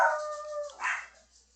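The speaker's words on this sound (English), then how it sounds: "there goes the dogs again" In the game Wurm Unlimited, a dog or wolf lets out a brief howl that bends downward, followed by a short yip, fairly faint and in the distance.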